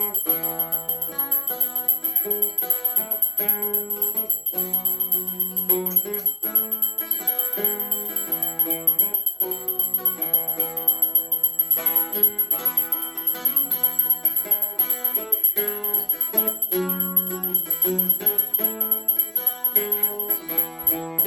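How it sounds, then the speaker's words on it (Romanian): A small bell rings continuously in a rapid, steady rhythm to accompany a Romanian carol sung at a concert, bright and prominent over the melodic singing. "Și colega mea mă va ajuta cu acompaniamentul la clopoțel."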